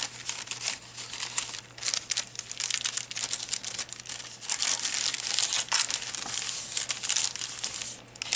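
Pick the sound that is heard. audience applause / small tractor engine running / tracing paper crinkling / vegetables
tracing paper crinkling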